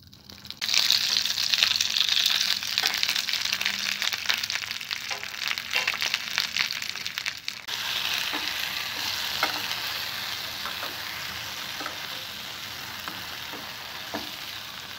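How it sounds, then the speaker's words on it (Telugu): Tomato pieces frying in a pan with already-fried green chillies for a tomato coconut roti pachadi, a loud, dense sizzle that drops slightly in intensity and crackles more steadily about halfway through, with no talking. "పచ్చిమిరపకాయలు ఫ్రై అయిన తర్వాత టమాటో కూడా వేసుకోవాలి."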